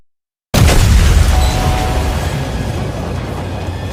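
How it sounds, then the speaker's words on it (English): A tank blowing up in a video game, a sudden heavy boom that cuts in from silence and rolls on as a loud, dense rumble with crackling debris, filling the rest of the clip without fading much. "He's just making the tank explode."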